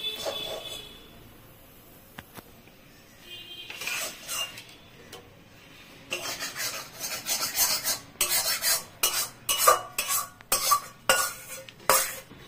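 A mixture is stirred in a pan with a spoon, giving scraping, rasping strokes that start sparse and quiet, then turn into a busy run of loud, repeated scrapes in the second half.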